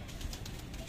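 A black Chinese kalpoti high flyer pigeon gives a brief, soft, close coo.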